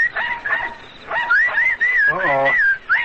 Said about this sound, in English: There's that same whistle we heard when the dogs had us treed, and there they go, running away.